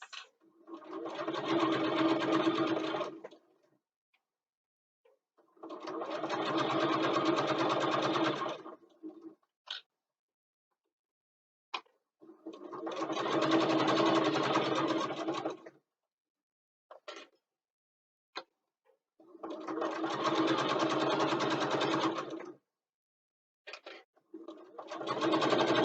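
A sewing machine stitches fabric for a bookbag in four steady bursts of rapid mechanical whirring, each a few seconds long, separated by pauses with faint clicks and handling noises.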